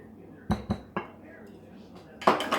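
A spoon stirs banana bread batter made with mayonnaise in a bowl, giving a few sharp clinks and scrapes against the sides, with a short burst of mixing at the end.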